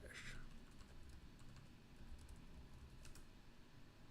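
Quiet typing on a computer keyboard, soft scattered key clicks at a low level with a couple of brighter taps near the start and close to the end, no voices.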